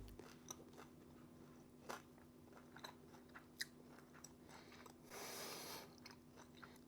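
A close, quiet crunch comes from biting into crispy jalapeño cheddar sourdough bread: scattered small crackles, then a longer crisp burst near the end.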